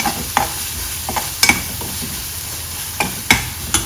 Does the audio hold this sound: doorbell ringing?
no